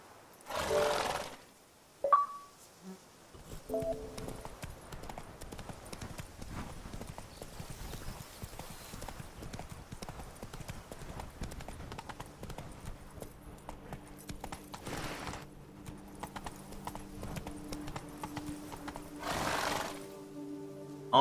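Roach, the horse in The Witcher 3: Blood and Wine, gallops with rapid rhythmic hoofbeats that run steadily for most of the stretch, with a brief neigh and whoosh-like bursts of game sound early on.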